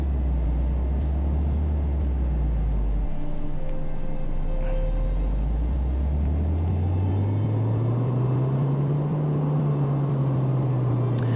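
A steady engine drone from the video game Car Mechanic Simulator on PS4 Pro hums without a break, its low pitch sagging and then climbing slowly like revs rising, smooth and synthetic with no talk over it.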